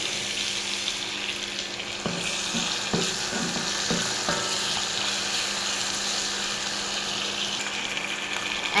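Tomatoes frying in a pan with turmeric powder, steady sizzle running throughout, with a few clinks of a utensil against the pan near the middle.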